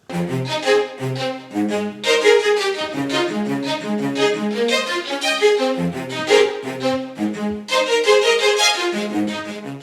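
A string ensemble plays a sustained melody in phrases, bright and full, with no voices.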